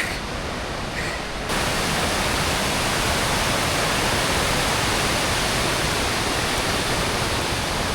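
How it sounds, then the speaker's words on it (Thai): Steady, dense roar of rushing water, loud and continuous like a nearby waterfall, filling the whole clip with no voices. "ตรงนี้จะเป็นวิวจากข้างบนของน้ำตกที่เราถ่ายกัน"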